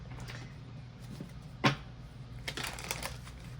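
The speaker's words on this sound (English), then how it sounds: "We gotta shuffle that up and make sure." Tarot cards are shuffled by hand at close range, giving quiet soft riffling with one sharp snap midway and a flurry of quicker riffles near the end. No one speaks.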